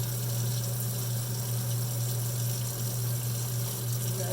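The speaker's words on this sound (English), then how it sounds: "we'll fill the sink up again with cold water and give them another little rinse." Cold water runs steadily from a tap into a kitchen sink used for rinsing cilantro leaves, a constant, even rushing with a low hum beneath it and no pauses.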